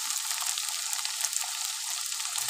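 Chopped beans fry in a hot pan as they are stirred, giving a steady, bright sizzle with light scraping textures and no voices.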